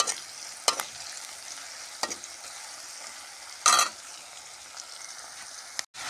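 Manimuni leaves, potatoes and chana frying in hot oil with chilli, onion and turmeric, a continuous close sizzle broken by several scraping stirs and one louder clatter of the spoon, with no voices.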